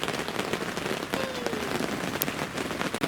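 Heavy rain lashing down outdoors at a flooded carp fishing spot, a dense continuous hiss of drops pattering on surfaces, loud and unbroken, with no one talking.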